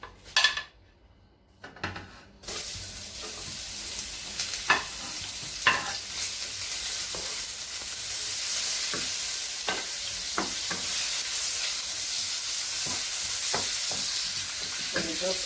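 Onions frying in hot oil with a pinch of salt, stirred in a pot: after a brief quiet start, a steady sizzle rises with repeated clinks and scrapes of a utensil against the pan.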